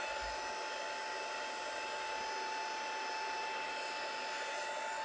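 A heat tool or dryer blows over an ink and oxide background with a steady, loud, close whirring roar and a constant high whine, unbroken for the whole stretch and with no talking.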